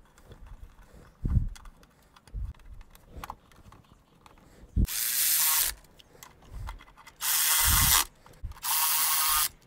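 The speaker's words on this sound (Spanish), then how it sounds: "Pusimos la tapa de la banda de tiempo de abajo y la de arriba la apretamos." A ratchet tightening the timing belt cover bolts on a Toyota Tercel, heard as bursts of fast buzzing clicks in three runs lasting about a second each, with scattered clunks and knocks from the work in between.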